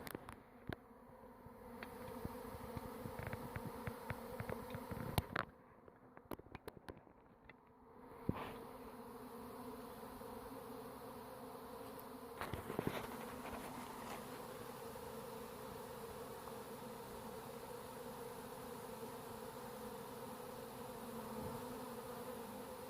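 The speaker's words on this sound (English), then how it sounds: "You can see some of the bees marching toward the front of the box right now." A swarm of honeybees buzzes inside a backyard bait box, making a continuous dense hum that stays fairly quiet and even throughout, with scattered clicks and handling knocks.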